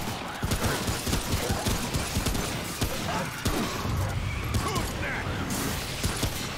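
Rapid bursts of gunfire mixed with mechanical clicks and clanks from reloading in the video game Remnant, sounding busy and close throughout.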